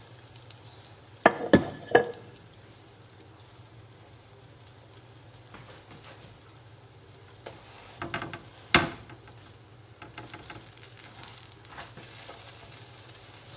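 A whole wheat paratha fries on a pan over medium heat with a faint, steady sizzle, broken by a few sharp clanks and scrapes as it is turned.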